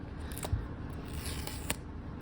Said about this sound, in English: So here we go with the watch itself. Let me see. So we gotta peel this too.